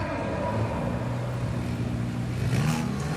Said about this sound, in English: 2-litre TSFI turbocharged engines mounted in the back of the KTM Crossbow